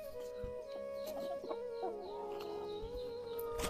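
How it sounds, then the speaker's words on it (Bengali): Tiger breed hens in a small backyard coop, soft clucking and low crooning calls close by with scattered faint clicks and rustles, quiet and without talk. "তো এই হচ্ছে আমার টাইগার মুরগিগুলো।"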